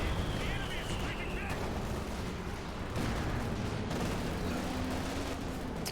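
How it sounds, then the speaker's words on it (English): Dense battle noise from Company of Heroes 2 fills the scene with continuous rumbling gunfire and artillery as Stuka dive bomber fire comes in, a steady loud wash of explosions and shots with no clear gaps. "more Stuka fire coming in"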